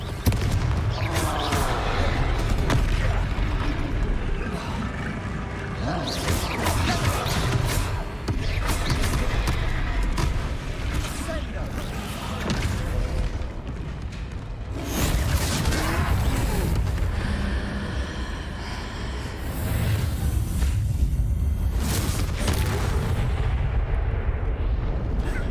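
Confringo fire spell blasts in the Hogwarts Legacy video game, with repeated loud booming explosions in bursts over combat noise and crackling debris, a voice briefly heard between them.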